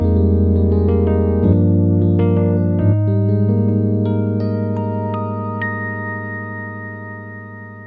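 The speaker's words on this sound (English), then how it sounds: "which is 76 pure electric piano" A mellow electric piano patch on a Roland FA-06/08 synthesizer plays sustained, warm chords and a few higher notes, steady and loud, slowly fading toward the end.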